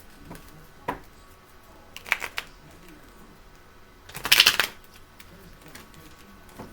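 A few soft riffling bursts of cards being shuffled, one longer flurry near the end, quiet and close in an otherwise hushed room.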